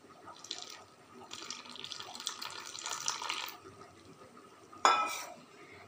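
Water pours in a short splashing stream into a bowl of batter mixed with turmeric, lasting a few seconds. A sharp clink follows, then quiet.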